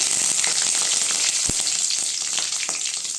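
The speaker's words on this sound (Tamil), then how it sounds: "பெரிய வெங்காயம் நல்லா கிண்டி விட்டுக்கோங்க" Sliced large onions fry in a pan for a Tamil-style egg curry, giving a loud, continuous close-up sizzle with faint stirring scrapes and a single sharp knock partway through.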